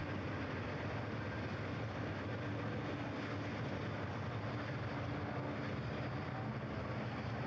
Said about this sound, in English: we see Santa Fe and Union Pacific freight trains passing each other going up and down the hill